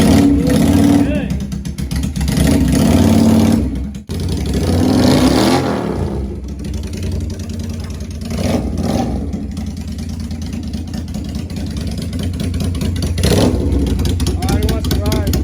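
A Honda Shadow Bobber motorcycle with backyard-built custom exhaust pipes runs loud and close, revving and dipping, with a brief cut-out early on, while people talk over it.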